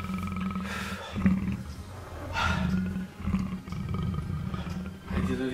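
Big cat roaring and growling repeatedly, loud and close, with deep rumbling bursts separated by short pauses.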